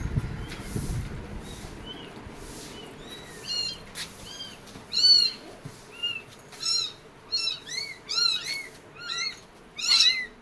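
A mother cat meows repeatedly while carrying her kittens to safety, a run of short, rising calls growing more frequent and insistent toward the end, with a brief scuffle of handling noise at the start and little else around.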